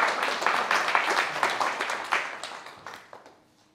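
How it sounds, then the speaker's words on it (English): A small audience applauds after a talk at a tech meetup, a modest burst of clapping that starts strong and gradually thins out and fades toward silence. "Oh, and applause."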